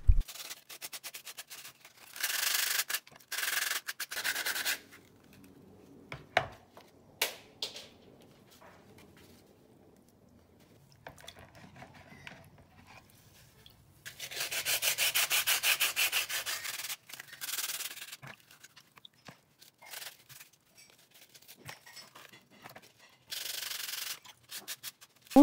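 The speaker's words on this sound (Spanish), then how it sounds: "las vamos a lijar" Cement pieces sanded by hand while submerged in a tub of water, giving bursts of wet rubbing and scraping strokes separated by quiet pauses, close and fairly loud, with no talking.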